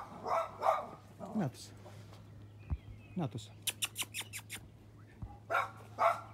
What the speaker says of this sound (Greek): Σκυλάκος αγριεμένος.